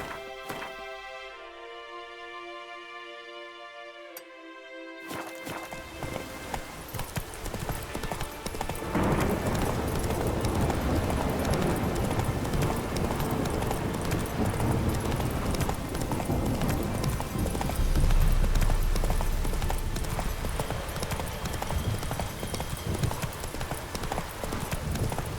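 Roach the horse in The Witcher 3 trotting with a steady, continuous clip-clop of hooves under game music, the rhythm building and staying loud throughout.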